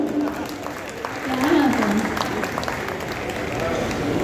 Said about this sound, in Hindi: अरे उठा है तो ताली बजाइए ना।